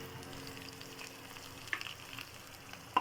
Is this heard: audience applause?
no